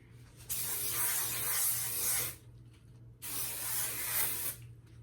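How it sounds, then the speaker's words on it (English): Two long bursts of aerosol hairspray, each hissing for about two seconds with a short pause between, close and bright over a low hum. "So I'm gonna spray it again."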